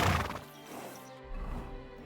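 A horse in the video game Kingdom Come: Deliverance 2 whinnies loudly right after a rider mounts, followed by a heavier thud of hooves and tack; short, close and without talk.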